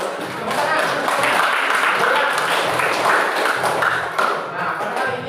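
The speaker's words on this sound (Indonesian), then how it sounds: "Untuk yang terakhir kita berikan tepuk tangan untuk kita semua ya." Students in a classroom give a round of applause at the end of a social studies lesson: loud, dense clapping sustained for about five seconds with some thumps mixed in.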